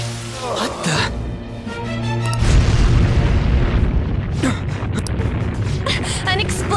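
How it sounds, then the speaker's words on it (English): A loud, rumbling explosion booms in the video game Persona 5, with a deep blast that swells and lingers amid game music and voices talking. "An explosion?"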